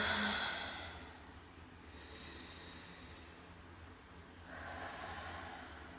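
Slow, deep meditation breathing close to the microphone, one long breath fading at the start and another swelling near the end, soft airy rushes separated by a quiet pause.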